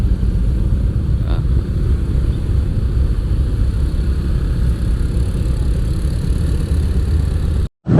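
Harley-Davidson motorcycles idle in stalled traffic on a road to Dieng, a loud, steady low engine rumble held close throughout before a sudden cut at the very end.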